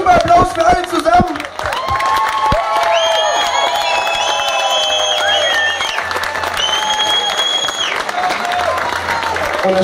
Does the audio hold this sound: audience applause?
yes